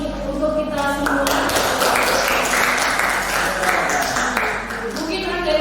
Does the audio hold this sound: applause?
yes